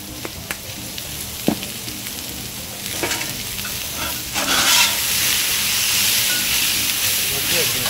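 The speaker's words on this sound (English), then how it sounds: "We're going to saute these up a little bit." Vegetables sautéing on a Blackstone 22-inch griddle make a steady frying sizzle that swells louder halfway through, with occasional spatula scrapes and taps over it.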